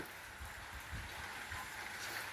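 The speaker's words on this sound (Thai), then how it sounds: "ฝน ตกมาแล้ว" Steady rain falling, a dense continuous hiss of drops with low patters underneath, fairly distant and even, no voices.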